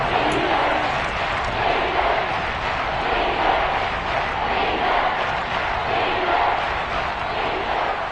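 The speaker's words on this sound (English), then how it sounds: "the crowd getting into it as we come up on a big 3rd down" A football stadium crowd roars steadily with broad cheering noise ahead of a big third down in a one-possession game, sustained and dense without a break, no talk audible over it.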